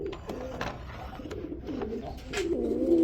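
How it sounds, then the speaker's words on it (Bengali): A pair of Bombay pigeons coo in soft, rolling bursts, close by, with light background noise from a pigeon market setting. "একজোড়া বোম্বাই কবুতর রয়েছে একদম কাঁচা হলুদের মধ্যে"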